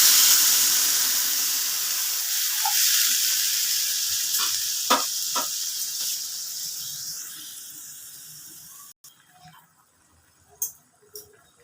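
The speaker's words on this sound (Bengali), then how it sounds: "এবার আমি জল দিয়ে দিলাম।" Water poured into a pan of cooking bottle gourd hisses and sizzles loudly at first, the steamy roar slowly fading over several seconds, with a few sharp clinks of a utensil and quieter bubbling near the end.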